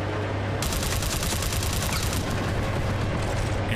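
Rapid sustained gunfire bursts from Mercenaries 2, a dense crackling fusillade of automatic weapons over low rumbling, loud and continuous with no voices.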